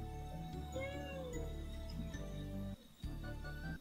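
A cat meows in a BL video game, drawn-out mewing cries over a busy layer of background music, fairly faint and repeated, with no one speaking.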